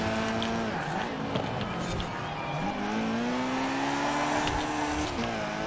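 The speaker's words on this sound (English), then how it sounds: "I don't want to drift. Stop making me drift." Car drifting in Forza Horizon 4, a steady engine drone with rising and falling revs and tire noise, loud and continuous throughout.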